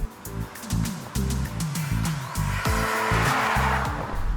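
A turbocharged petrol engine in a Mercedes-Benz GLC 300 SUV revs and climbs through the gears up to its 6,500 RPM redline, pitch rising and dropping with each shift, loud and close.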